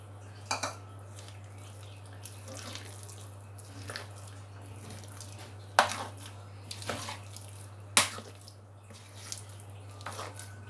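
Cooking dhokla from semolina and gram flour batter: scattered clinks of spoon against a metal bowl and brief splashy taps as water goes in, spaced irregularly over a steady low hum, close and moderately loud.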